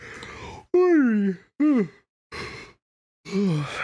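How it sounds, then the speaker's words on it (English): A man gives a drawn-out, voiced yawn close to the microphone, breaking into several sighing, groaning exhalations with short pauses between them. "I'm just yawning because my brain needs more oxygen"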